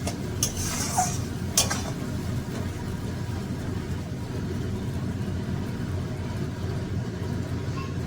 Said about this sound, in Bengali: এবার ভালো করে একটু নাড়াচাড়া করে নিতে হবে।